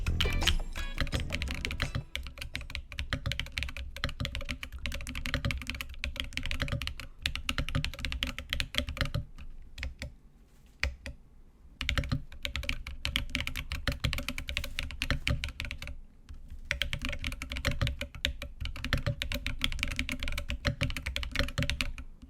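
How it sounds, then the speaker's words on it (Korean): Continuous rapid typing on a Keychron Q1 knob mechanical keyboard fitted with swapped, rounder-sounding switches, dense clacky keystrokes close up with brief pauses, no talking. "자, 이제 다시 타이핑을 해봤는데요."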